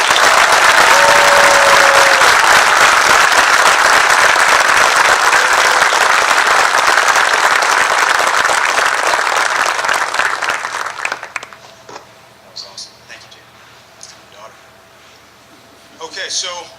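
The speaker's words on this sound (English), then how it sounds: "give her a round of applause" Loud, dense applause from a large crowd of sailors and civilians at a Navy change of command ceremony in San Diego, honoring a guest singer. It holds steady for about eleven seconds, then drops away to near quiet, with a brief stir at the end.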